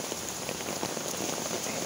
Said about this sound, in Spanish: Qué aguacera.